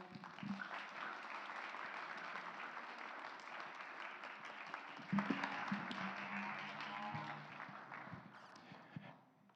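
A church congregation applauds after a sermon, a steady, fairly quiet wash of clapping across the whole stretch, with a few voices rising briefly in the middle and a slight swell near the end.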